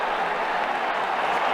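A cricket stadium crowd applauds in the game Ashes Cricket 2009, a steady, dense wash of clapping and cheering that holds at an even level throughout.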